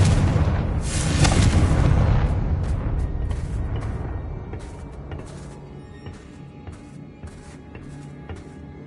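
Confringo explosion spell in Hogwarts Legacy bursts with a loud, rumbling boom that swells, then tails off into scattered crackles and small debris impacts.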